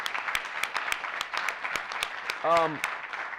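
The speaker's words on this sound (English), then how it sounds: "I actually really big hand of applause for them" Applause at a startup pitch competition event, faint scattered claps in a loose rhythm heard from a distance, with a brief tonal whistle-like sound near the end.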